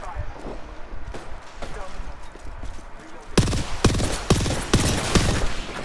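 Apex Legends gunfire crackles in sparse shots at first and then turns into a loud, rapid burst of repeated shots, with people talking over it throughout.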